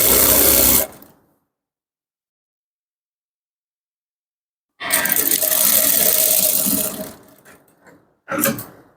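A sewing machine stitches men's shorts in loud bursts: a short run at the start, then after a long silence a sustained run and a final brief burst, close by.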